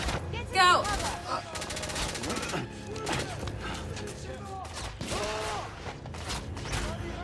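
Gunfire in The Order: 1886, with rapid bursts of shots and mechanical clatter crackling through a tense firefight, steady and fairly loud, with voices talking over the shooting.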